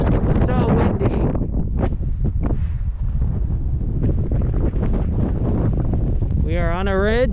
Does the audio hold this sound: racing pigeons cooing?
no